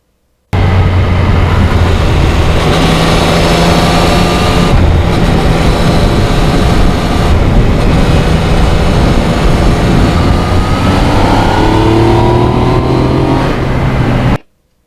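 A 2020 Yamaha MT-09 motorcycle rides over salty, pothole-strewn roads past frozen lakes, its engine droning steadily with rising and falling pitch under heavy, constant wind roar, loud and close for the whole stretch.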